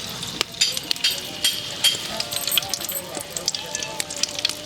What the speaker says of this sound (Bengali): মশলাটা আগে তেলের মধ্যে ভালো করে কষাবো।